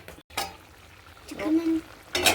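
A spoon stirs mushroom curry in a pot, with a few short scraping and clinking strokes and a brief wet slosh, close and moderately loud.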